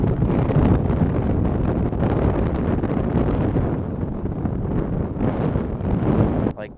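Wind roars across the microphone during largemouth bass fishing from a boat near chestnut trees, a loud continuous rumbling gust with no speech, easing slightly before a brief drop at the end.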